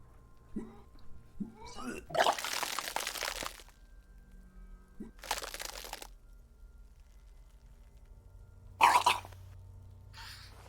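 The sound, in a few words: character vomiting in the video game Disco Elysium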